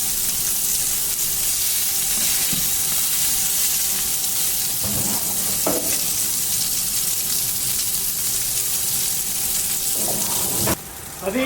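Wagyu and lean beef burgers on a Coleman Revolution BBQ grill, a steady close sizzle and hiss with a few faint knocks and scrapes, ending in a sudden louder burst.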